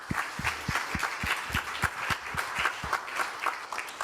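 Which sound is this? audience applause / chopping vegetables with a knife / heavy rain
audience applause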